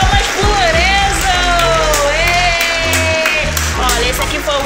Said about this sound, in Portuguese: Palmas pro Lorenzo